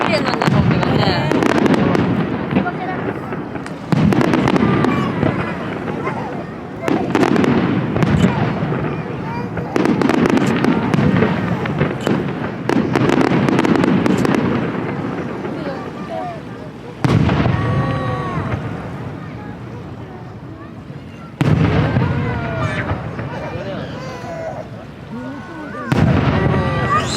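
Winter weekend fireworks burst over Itsukushima Shrine on Miyajima in a series of loud booms and crackling trails spread through the sequence, with excited spectators talking in between and over the blasts.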